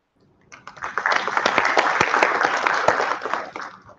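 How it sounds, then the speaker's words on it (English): After a brief silence, an audience at a Colombo IoT meetup breaks into loud, full applause that holds steady for about three seconds and then fades away. "big applause for all IoTers who have gathered here"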